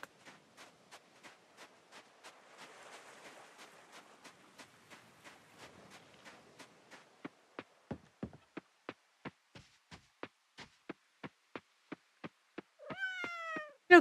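Cats in the farming video game Coral Island give a couple of brief meows, the clearest near the end, over a steady rhythm of soft clicking steps in an otherwise quiet scene.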